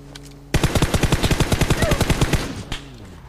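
A fast burst of automatic gunfire rattles loudly in a battle royale video game, a string of about twenty rapid shots lasting two seconds, then a single later shot.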